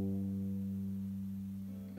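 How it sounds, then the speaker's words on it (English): A thick gut string plucked once, ringing with a steady low harmonic tone that slowly decays over two seconds, heard alone. "a thick gut string sounds like this"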